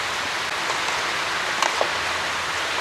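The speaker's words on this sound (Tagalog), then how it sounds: "Umuulan." Steady rain falls during a storm at a small farm, a dense, even hiss filling the air with a few louder drops pattering close by.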